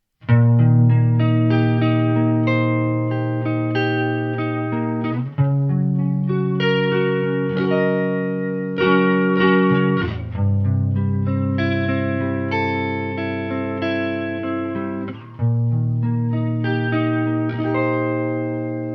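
Sustained electric guitar chords swept by a deep, whooshing flanger at maximum depth from a TC Electronic 2290, the jet-like modulation rising and falling continuously, with several chord changes and no voices.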